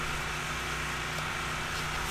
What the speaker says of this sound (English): If there's background noise, there's generators running.